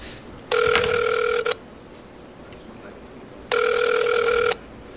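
A telephone rings twice, each ring a buzzy trill lasting about a second, separated by a pause with low background noise.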